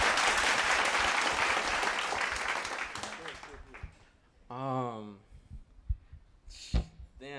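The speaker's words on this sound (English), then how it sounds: "So let's give him a round of applause." An audience at a community event claps in a dense, loud burst of applause that fades out over about four seconds, followed by someone talking.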